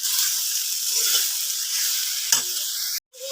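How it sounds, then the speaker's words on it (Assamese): Fish and chopped taro pieces fry in a wok with chillies, a steady loud sizzle with a brief stirring scrape, then a sudden short cut-out near the end; no one talks. "মাছখিনি সিজিলত আমি কাটি ৰখা কচুখিনি এনেকৈ অলপ অলপকৈ দি সিজিবলৈ দিম"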